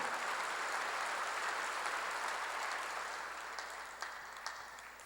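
A church congregation applauding together, a dense sustained clapping that fades gradually toward the end, with a few louder individual claps standing out.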